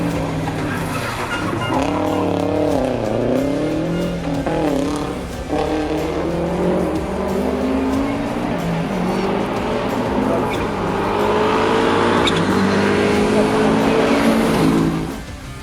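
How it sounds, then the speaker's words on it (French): A Subaru rally car competing in a French championship rally, its engine revving loud and close with rising and falling pitch through gear changes, continuous over the whole stretch, with some voices mixed in. "Florent monte dans la Subaru avec Alain pour un rallye du championnat de France"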